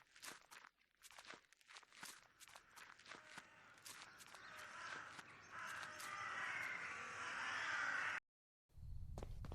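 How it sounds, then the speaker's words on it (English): Crows caw in the fog of the pixel horror game The Last Door, scattered calls sounding over repeated crunching footsteps, followed by a steady rising wash of ambience that cuts off briefly near the end. "Was that not where the bird calls were?"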